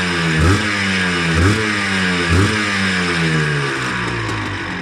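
A Gilera KZ motorcycle engine, the 1980s model, is revved three times in quick succession, each blip rising sharply over a steady close-up idle with no talking.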